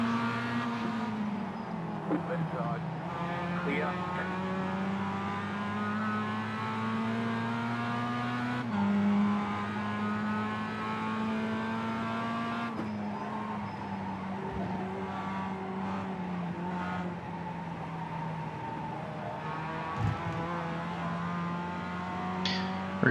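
The engine of a Mazda MX-5 Cup race car in the iRacing sim at the Charlotte Roval drones steadily for the whole stretch, its pitch rising and falling through gear changes and corners with no talk over it.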